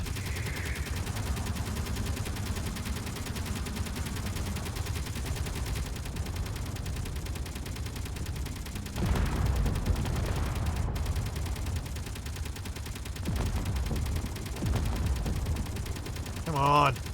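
Rapid turret gunfire bursts from a combat video game rattle under a steady low rumble of engines and bombs, with louder volleys swelling around the middle and end.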